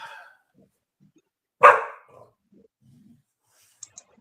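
One loud, sharp dog bark close by, followed by near silence with a couple of faint clicks.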